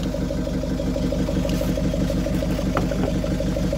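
A Mazda Bongo engine, just revived with a Halfords jump start pack, runs at a steady idle with a close, even rhythmic throb and a low mechanical drone, with no voices over it.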